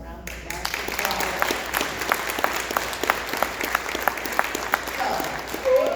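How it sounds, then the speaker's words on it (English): A room of colleagues at a regional stand-up meeting breaks into a sustained round of applause, dense clapping going on steadily for several seconds. "So can we just give them a round of applause?"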